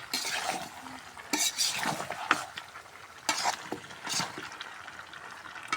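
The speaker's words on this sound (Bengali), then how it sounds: "ভালোভাবে সুন্দর করে কষাই নিই" Chickpeas and spices being stir-fried in a big wok for a home event, with metal utensil scrapes and clanks over a steady low sizzle, moderately close.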